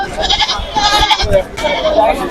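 Goats bleat repeatedly, close and loud, over a busy crowd of people talking at a goat market in Jhikargachha, Jessore.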